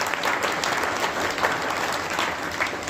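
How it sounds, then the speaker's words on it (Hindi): A crowd at an Arya Samaj gathering welcomes a guest with steady, energetic applause, a dense mass of clapping that holds at an even level throughout with a few sharper claps rising above it. "सैनी साहब का ऐसे नहीं, जोरदार तालियों से स्वागत करें"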